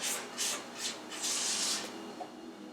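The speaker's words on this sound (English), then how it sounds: "And let it go again. I'll just scrape down the sides." A spatula scrapes the sides of a mixing bowl of brownie batter in a home kitchen, several soft rubbing swipes in quick succession, close and fairly quiet.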